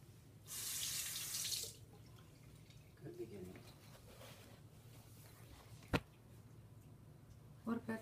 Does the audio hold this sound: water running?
yes